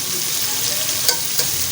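Chopped onions fry in ghee for masala bhindi, giving a steady, loud broadband sizzle with a couple of brief crackling pops, no voices.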